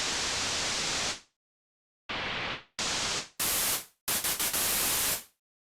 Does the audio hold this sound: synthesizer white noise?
yes